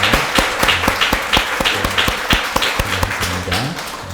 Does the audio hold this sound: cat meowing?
no